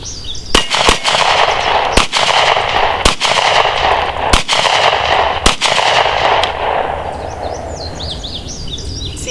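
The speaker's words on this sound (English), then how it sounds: "first time shooting the pretty brand spanking new Glock 43" A new Glock 43 9mm single-stack pistol fires about eight loud, sharp shots at irregular intervals, each a crisp crack with a short echoing tail, close to the microphone and with no talking.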